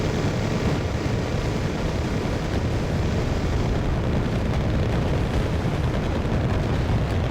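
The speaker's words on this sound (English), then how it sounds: "Rocket artillery once again comes in to make the defenders" Sustained, dense rumbling roar of rocket artillery barrages pounding defenders in a strategy war game set around Stavanger, loud and continuous with overlapping blasts and no clear pauses.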